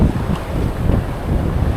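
Strong waves hitting the shore at high tide on a fishing coast, a loud, steady rushing wash thick with wind buffeting the microphone.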